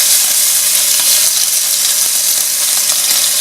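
Tuna searing in a hot pan gives a loud, steady, close hiss of sizzling oil that holds constant throughout, with no talk.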